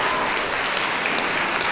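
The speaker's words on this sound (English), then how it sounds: "Please hold the applause" Loud, close audience applause fills a community candidates' debate in Ottawa Centre, a dense continuous burst of clapping from the crowd with no gaps.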